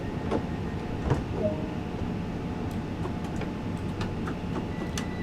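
Electric multiple-unit train in the Train Sim World game on a Seaford to Brighton southern service, a steady rumbling rail noise with faint ticks and clicks, moderately loud and continuous with no talk.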